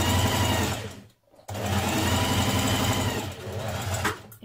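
A sewing machine runs fast, stitching a small French seam on a ladies' shirt, a steady buzzing whir that pauses briefly, then resumes and continues close and loud.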